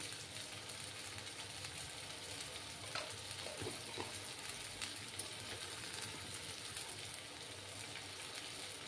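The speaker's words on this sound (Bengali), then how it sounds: "দেখো বন্ধুরা, এবার আমি 1 স্পুনের মতো জিরের গুঁড়ো দেব।" Ground cumin sizzles and fries in hot oil over a high gas flame, a steady close hiss with a few faint stirring scrapes and no talk.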